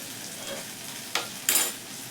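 Coriander leaves drop into a hot pan, giving two short bursts of sizzling over a faint, steady background hiss.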